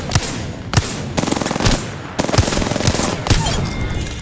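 Rapid bursts of Wingman pistol gunfire in the Apex Legends video game, several loud sharp shots cracking in quick succession, spaced roughly half a second apart over a busy, continuous battle din.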